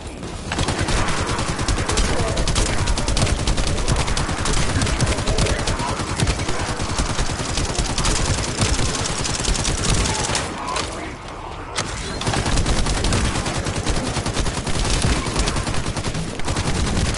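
Gunfire in the video game The First Descendant, dense continuous automatic shooting with rapid repeated shots filling nearly the whole stretch, a short lull near the end before the barrage resumes.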